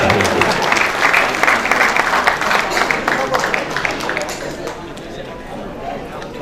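An audience at a state official-language commission convention applauds with dense, sustained clapping that stays strong and slowly fades toward the end.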